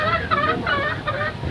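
A hen clucks in short, repeated bursts, heard fairly close over a quiet background.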